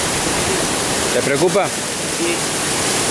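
The San Lorenzo stream, heavily swollen after a storm, rushes with a dense, constant roar of broadband water noise under a brief spoken question.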